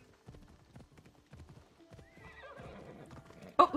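A horse in the video game Assassin's Creed Odyssey trots with quick, light hoofbeats that build up, then gives a sharp, close whinny at the end.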